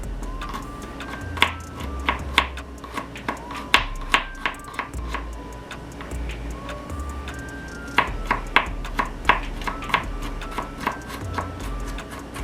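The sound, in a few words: chopping garlic into pieces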